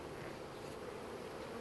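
A swarm of honey bees being shaken into a hive box, giving a steady, dense buzzing hum that stays even and close throughout with no voices.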